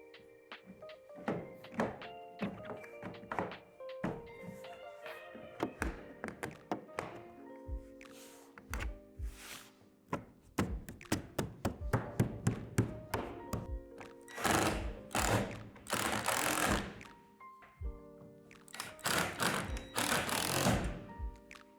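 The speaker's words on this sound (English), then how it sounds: "Place the end cap on the skylight at the front of the shed and then secure underneath with the 2 screws." Screws driven to secure the end cap on the skylight of a Lifetime 7' x 12' outdoor storage shed, with close rhythmic thunks and taps, then louder bursts of a whirring power driver.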